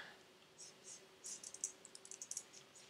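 Typing on a computer keyboard while coding in JavaScript: a quick run of light, close clicking keystrokes, sparse at first then denser, with a faint low hum underneath.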